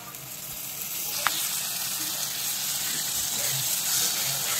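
Ground tomato paste hits hot oil with frying onions, giving a steady, close hiss and sizzle that holds evenly throughout with faint stirring underneath.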